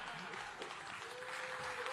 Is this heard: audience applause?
yes